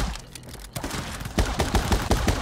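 Rapid pistol gunfire in the side-scrolling shooter My Friend Pedro, a fast burst of sharp loud shots that grows denser toward the end over game noise.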